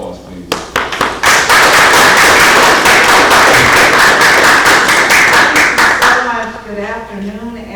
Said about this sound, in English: please give our senator a round of applause